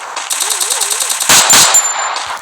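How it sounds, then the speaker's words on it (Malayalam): Rapid automatic gunfire from the Free Fire video game rattles loud and close in a quick burst, then heavier blasts and a metallic ring, with no one talking. "എവിടെ നിന്ന് എനിക്ക് വെടി കിട്ടുന്നു?"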